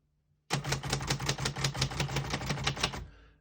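A 1965 Royal Safari portable typewriter types a rapid, even run of sharp key strikes close up, roughly a dozen clacks in a steady rhythm ending with a faint ring-off, after near silence.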